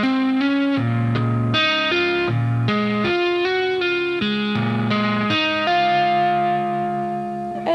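A distorted electric guitar plays a chord sequence from a song's riff, a loud, reverberant run of rhythmic chord changes that ends on a longer sustained chord, with no voices.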